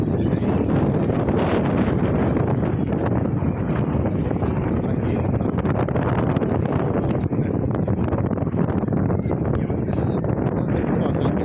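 Strong sea wind blows at the Tiruchendur Murugan temple on the coast. It buffets the microphone in a continuous, loud, rushing roar with no letup.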